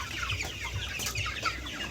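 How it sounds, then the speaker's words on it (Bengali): Chickens in a poultry shed cluck softly with a few scattered, fairly quiet calls over a continuous low background murmur. "আওয়াজ তো শুনলেই কীরকম আওয়াজ হচ্ছে আমার মুরগি ঘরের থেকে"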